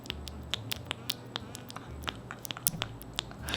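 Mechanical keyboard switches over-lubed with thick Krytox are typed on rapidly, giving dull, damp, irregular clacks and taps close to the microphone at a low overall level, with no voices.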